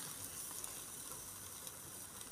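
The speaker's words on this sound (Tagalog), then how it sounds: "Sunog na nga itong lamb chop." Steady, faint sizzling hiss of lamb chops charring on a barbecue grill in Australia, continuous and even with no talking.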